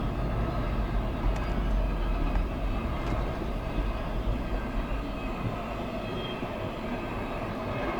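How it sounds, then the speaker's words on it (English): A CSX freight train hauled by a pair of SD40-2 locomotives rolls past, a continuous heavy low rumble of wheels and wagons that holds steady throughout. "Symbol on this train here is CSX I009."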